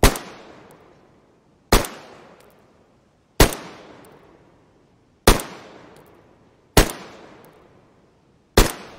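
Pistol with a 7-round capacity fired down a range in DayZ: six sharp, loud single shots spaced about every 1.7 seconds, each trailing into a fading echo, with no talk.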